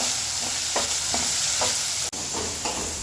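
Tomatoes sauté in a pan for a mushroom gravy, a steady close sizzle with a spatula scraping and stirring in a regular rhythm, no talking.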